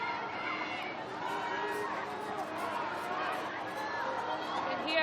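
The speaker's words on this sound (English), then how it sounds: "And here the crowd chanting Scotland, urging them on, Rowena." A crowd at a women's hockey match between Korea and Scotland chants for Scotland, a rhythmic mass of voices carrying across the stadium under steady crowd noise.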